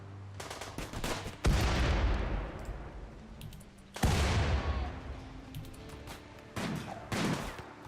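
Automated turret gunfire in the video game RimWorld, loud close bursts of rapid shots with two heavy blasts that ring out and fade, then shorter intermittent volleys, no talk.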